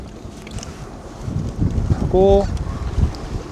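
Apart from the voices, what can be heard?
jet ski with supercharged engine starting up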